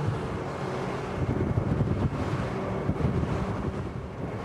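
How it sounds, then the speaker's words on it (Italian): The engines of a SACS Strider 11 rigid inflatable boat roar at low speed, a steady heavy rumble mixed with wind buffeting and water noise. "I motori rombano, stanno soffrendo, vorrebbero galoppare, esprimere tutti i loro cavalli."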